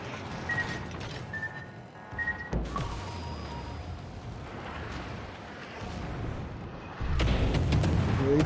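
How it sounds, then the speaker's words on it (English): Heavy naval guns firing armor-piercing shells at a submarine in World of Warships, booming reports at irregular intervals over engine and water rumble, with a louder blast near the end. "I'm shooting at a sub right now"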